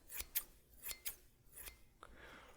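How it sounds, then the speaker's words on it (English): Scissors snip crisply several times in an uneven rhythm, close and quiet, followed by a soft rustle. "Scissors are such a classic sound"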